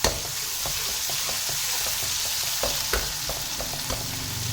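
Garlic and ginger paste sizzling in hot oil in a pan while being stirred for a vegetable curry, a steady frying hiss with irregular scraping taps of the spoon, close and continuous with no talking.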